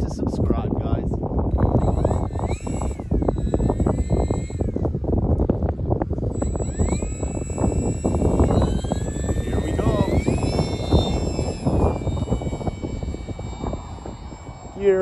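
A Durafly P-40 Warhawk WWII fighter RC model plane takes off, its electric motor whining loudly and steadily and rising in pitch as it speeds up, with a person talking over it.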